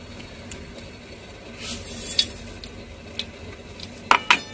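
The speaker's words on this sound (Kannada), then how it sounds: "ಈಗ ಒಗ್ಗರಣೆ ಹಾಕ್ತಾ ಇದ್ದೀನಿ ಲಾಸ್ಟಿಗೆ." Mustard seeds and cumin tempering in hot oil for a Karnataka bassaru, a faint sizzle with scattered sharp pops and crackles, the loudest bursts near the end, and no talking.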